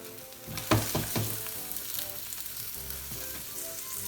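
Eggplant and tofu frying in oil in a pan, a soft continuous sizzle with a few clattering knocks early on, quiet and close.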